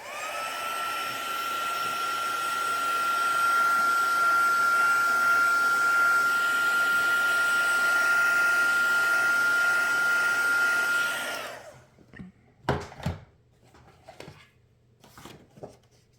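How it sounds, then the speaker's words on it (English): A heat gun drying ink on a handmade greeting card blows with a steady, loud whooshing roar for about eleven seconds, then cuts off, leaving a few soft handling clicks and taps. "So let's just hit it with the heat gun a little just to dry it."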